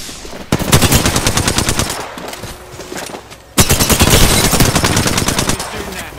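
Rapid automatic gunfire in a shooter video game, two long dense bursts of close, loud shots separated by a short quieter gap.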